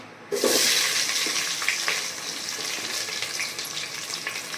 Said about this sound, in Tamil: வெங்காயம் போட்டு நல்லா வதங்கி வரணும்